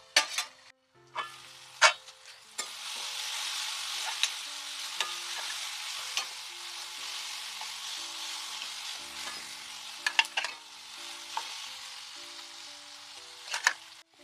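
Onions cooking in a pan for a brinjal and cabbage curry give a steady, close sizzle and fry hiss, broken by a few sharp clinks and stirring scrapes of a utensil.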